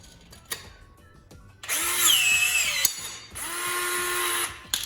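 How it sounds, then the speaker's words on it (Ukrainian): A Gesipa PowerBird cordless riveter sets a stainless steel pull rivet into a metal plate: two loud rising motor whirs, each about a second long, with a click at the end of the first. "Встановлювати будемо заклепку в металеву пластину. Це у нас заклепка нержавіюча."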